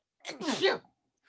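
A single loud, close sneeze bursts out briefly in a quiet indoor room.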